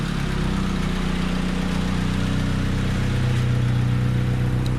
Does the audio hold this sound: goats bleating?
no